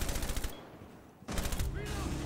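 Gunfire in the tactical shooter game Rainbow Six Siege: a burst of loud sharp shots at the start, a short near-silent gap, then another sustained volley of rapid fire.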